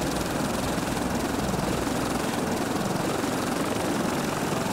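Gyrocopter flying in the survival game Stranded Deep, a steady loud droning rotor and engine hum that holds even throughout, with no talking.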